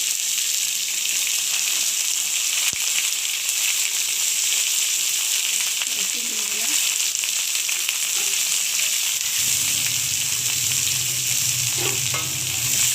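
Onions fry in a pan with a dense, constant high sizzle and hiss, close up, occasional faint stirring knocks and a low hum entering later.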